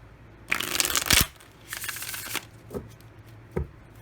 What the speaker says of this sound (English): one more quick shuffle here